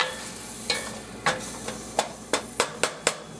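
A spoon scrapes and knocks against a pot while stirring Texas goulash ingredients, a series of distinct clinks at an irregular, quickening pace over a faint background hiss.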